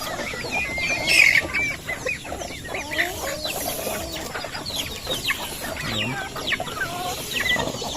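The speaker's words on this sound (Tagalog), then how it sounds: "Inaawat nila yung nag-aaway ng mga manok." Chickens squabble and fight in an open farmyard where pigs live under trees, with repeated agitated clucks and squawks, a sharp loud burst early on, over a busy outdoor background.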